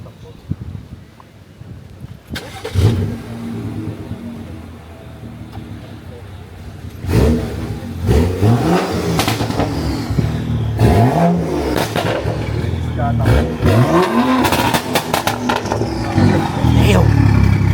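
Tuned stage 2 BMW 420i revving hard, its exhaust rising and falling in repeated surges with wind noise through an open window and occasional voices over it.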